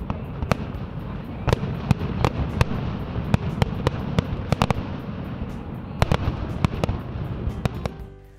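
Fireworks burst during an annual show over Lake Orion, a run of sharp, loud cracks and booms at irregular intervals over a rumbling crowd-and-echo background, with a tight cluster toward the end.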